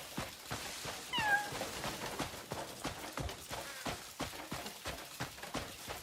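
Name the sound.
cat meowing in the video game Crimson Desert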